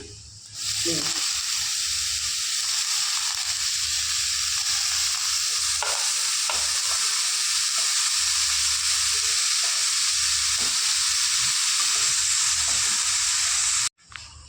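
Shredded cabbage fries in a pan with salt and turmeric, giving a loud, continuous close-up sizzle and hiss with occasional stirring scrapes, then stopping abruptly at the end.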